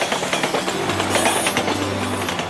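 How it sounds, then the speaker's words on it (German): A train rattles past a small house by a station in a cartoon, a steady, close, continuous rumble and clatter with no pauses, heard alone without any talk over it. "nicht mal von dem Zug, der direkt vor ihren Nasen vorbeirattert"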